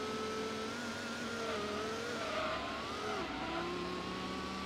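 Dodge Viper engine in Gran Turismo revving steadily with rising and falling harmonic whine, loud and continuous throughout, no talk over it.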